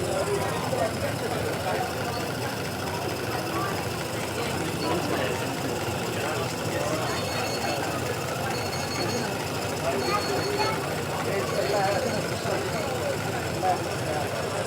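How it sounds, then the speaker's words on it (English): Small scale model engines of the kind used to run a sawmill run at a county show, giving a continuous busy mechanical chatter under crowd noise and nearby talk. "Little model engines that really what you would use to run a sawmill, just scaled down."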